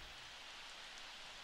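Rain falls in The Sims 4, a steady soft hiss of drops, faint and even throughout, with no talk over it.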